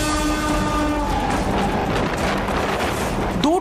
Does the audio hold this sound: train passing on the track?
yes